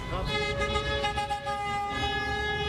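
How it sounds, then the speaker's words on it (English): Sustained, overlapping car horns blare in street traffic during a protest, loud and continuous, with a brief dip before the honking swells again. "Tons of cars. Obviously, you can hear all the honking."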